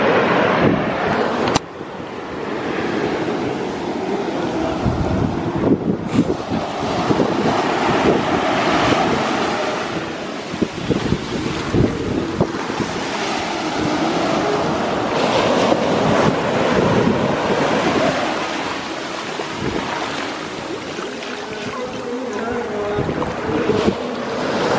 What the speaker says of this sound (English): now I'm just sitting here on the beach enjoying the water and the waves and my tipsiness